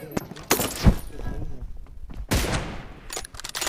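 Gunfire in an online shooter match with an M24 sniper rifle comes as several sharp cracks and bursts, loud and close, mixed with in-game effects and a brief voice.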